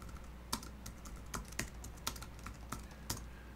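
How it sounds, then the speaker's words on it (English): Typing on a computer keyboard, heard as a quiet, uneven run of close key clicks with a few sharper presses standing out, no talk. "Wait, I need to type hello."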